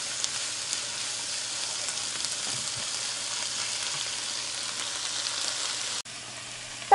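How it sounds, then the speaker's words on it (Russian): Onions fry in a pan as part of a vegetable soup with broccoli, giving a steady, even sizzle throughout with a brief dip near the end and a faint clink. "Лук у меня обжаривается."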